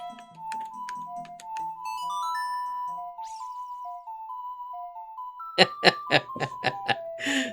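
A gentle ocarina tune, the Song of Healing from The Legend of Zelda, with sustained notes, followed by a burst of bright chiming, tinkling sounds near the end.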